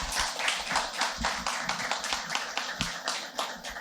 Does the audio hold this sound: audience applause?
yes